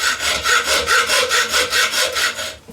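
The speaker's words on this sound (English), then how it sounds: "Get yourself a hacksaw and just saw them off." A hacksaw cuts through a metal toilet closet bolt in steady back-and-forth strokes, about ten even rasping passes close up and loud, with no talking, ending abruptly.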